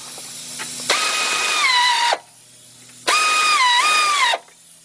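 A power tool, likely a cordless impact driver or drill, tightens radiator fan bolts on a 1991 Mercury Capri in two loud, close whirring bursts of a bit over a second each, its pitch dipping as each bolt seats.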